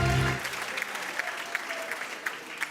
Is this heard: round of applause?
yes